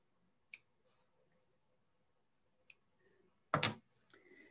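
Serrated scissors snip fly-tying fibers in a quiet room, giving two small sharp clicks followed by a louder, fuller cut and a brief rustle at the end.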